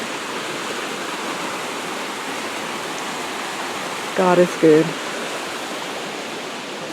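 Floodwater rushes past steadily after a heavy storm, a continuous broadband roar like a stream or waterfall at moderate loudness, with a brief spoken phrase near the end.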